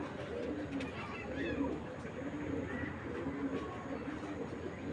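Soft, low cooing from pigeons at a pigeon farm repeats throughout at close range, alongside a steady background murmur and occasional bird rustling.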